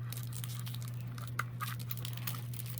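Scissors cutting a ribbon from Hobby Lobby during a butterfly fabric-tag craft, giving faint, steady crinkling and snipping over a constant low hum, with no talking.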